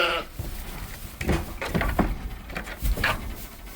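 Dorper sheep and lambs bleat at close range in several short overlapping calls over a rustling farmyard background.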